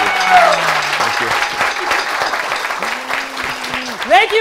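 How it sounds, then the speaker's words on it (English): A studio audience claps steadily through a late-night talk show interview close, with a host speaking over the dense applause. "Another round of applause to Garrett."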